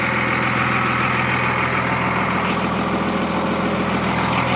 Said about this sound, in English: Here's the truck.